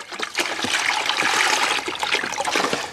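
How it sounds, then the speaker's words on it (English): Vinegar pours into a bucket during water heater descaling, a steady close splashing and trickling stream that keeps up throughout. "We're going to pour 1 more gallon in here, so now we've got about 3 gallons ready to go."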